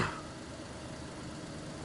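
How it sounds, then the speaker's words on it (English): A car engine idles steadily in the DayZ video game, heard from the first-person view inside the vehicle, a continuous low, muffled rumble at moderate level with no talk over it. "So if you're in first person, the car is not as loud as like in third person."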